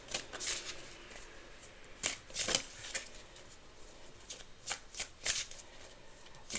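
A deck of tarot cards being shuffled by hand, with repeated riffling bursts of papery flutter and snapping at an uneven rhythm, close and fairly loud, with no talking.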